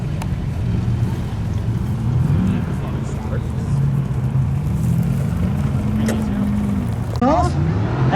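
Ultra4 Limited Class off-road racer in a bomber chassis at Shamokin, Pennsylvania, its engine droning loud and steady as it pulls away off the line, with a commentator talking over it throughout.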